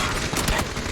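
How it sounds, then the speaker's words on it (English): Rapid bursts of gunfire in a PUBG match, a dense, loud fusillade of overlapping shots filling the whole moment. "But now YMCA is shooting at them instead."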